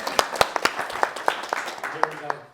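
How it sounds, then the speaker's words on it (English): A small audience at a chiropractic health class claps for a volunteer, a sparse, uneven patter of individual handclaps close by, with a voice speaking partway through. "Round of applause"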